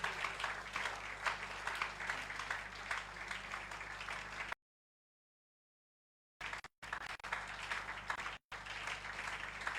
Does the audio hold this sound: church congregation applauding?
yes